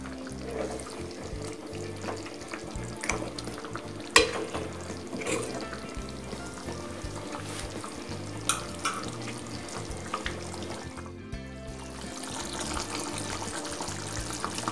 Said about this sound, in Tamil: கொஞ்ச நேரம் கொதிக்கட்டும்.